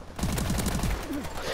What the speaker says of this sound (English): I shot him in the face twice.